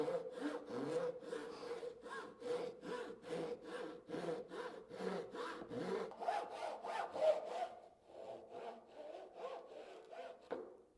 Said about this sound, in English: and then I will cut that with a handsaw.